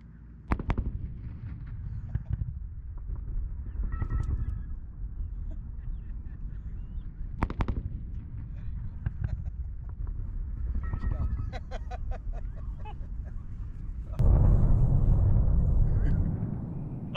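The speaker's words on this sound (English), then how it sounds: "Double sonic booms, baby." Two sharp, distant sonic booms from a SpaceX Falcon Heavy's returning boosters in quick succession cut through a murmuring crowd, followed by excited cheering and shouting that swells near the end.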